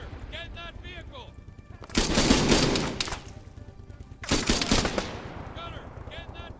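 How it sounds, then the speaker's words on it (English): A high-caliber weapon in the Arma 3 combat game fires two long, loud automatic bursts, each lasting about a second, separated by quieter stretches with voices and radio chatter in the background. "That's a high caliber weapon."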